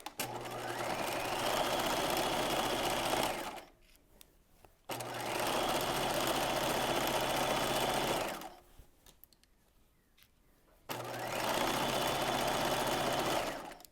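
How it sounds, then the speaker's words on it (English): A home sewing machine runs a 2 mm wide, 2.5 mm long zigzag stitch along a top's sleeve hem, backstitching, in three steady whirring bursts separated by short pauses, close and alone. "And I'm starting at the sleeve hem and back stitching"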